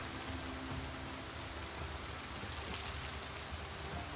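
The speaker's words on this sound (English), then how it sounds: "Obviously, it's raining." Steady, even rain falling in the video game Project Zomboid, a constant faint hiss with no breaks or distinct drops, heard alone without talk.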